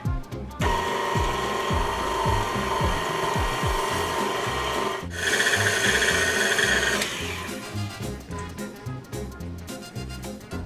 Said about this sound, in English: And we'll mix that.